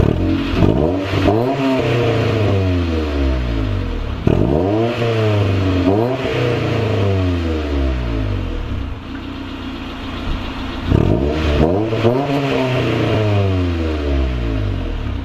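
A car idling through a Vibrant muffler and resonator welded onto an eBay catback exhaust, a loud close rumbling drone that swells with a few light blips of the throttle and settles back between them.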